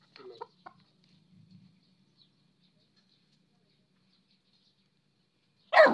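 A disabled chicken clucks in a few brief bursts near the start, then goes quiet while faint low rustling continues, before a louder burst of sound closes the clip.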